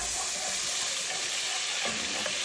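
Minced fresh garlic sizzles steadily in a hot pan for a loaded cheesy potato side dish, a close, continuous frying hiss with faint stirring scrapes and no talking.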